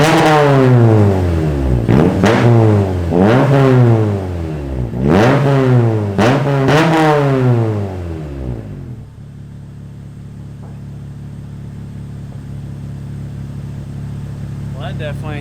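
Honda EK hatchback engine fitted with a custom exhaust, revved hard several times in quick bursts with a deep rasping roar, then settling into a steady low idle rumble, close by.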